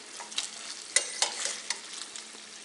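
Tandoori chicken pieces sizzle in a fry pan as they are turned over, with a soft continuous crackle broken by a few sharp scraping knocks of the flipping, close and fairly quiet.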